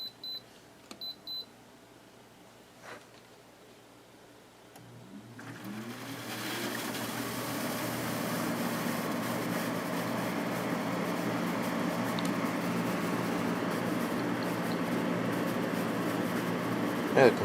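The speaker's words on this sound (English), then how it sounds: "Yeah, the compressor's running." LG dual inverter air conditioner beeping as it is switched on, then its compressor starting up into a steady, fairly quiet hum that settles into a continuous drone.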